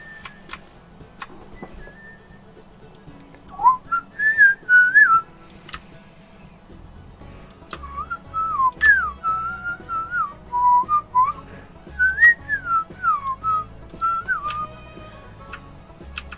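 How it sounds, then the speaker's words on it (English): A synthetic, pitch-corrected whistle carries a wavering, stepping melody in a soundtrack, entering after a few quiet ticks and playing in bursty phrases over a low hum, fairly up front. "whatever this auto-tuned whistle thing is"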